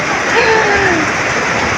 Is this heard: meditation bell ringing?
no